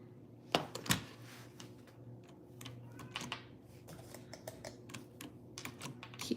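Typing on a computer keyboard at close range, irregular bursts of crisp key clicks with a couple of louder strikes early on, steady over a quiet electrical hum with no voices.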